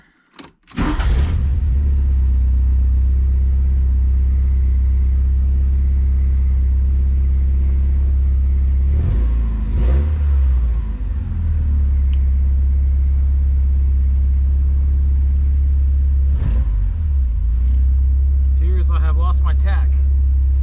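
A Porsche 944 engine idles steadily after a new O2 sensor install, a loud continuous low rumble with a couple of brief swells as it runs, preceded by a short cranking start.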